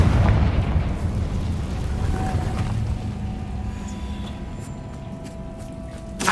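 A Confringo spell blast in Hogwarts Legacy, a heavy rumbling explosion that fades into a long low roar with faint chimes of spell effects, with no voices.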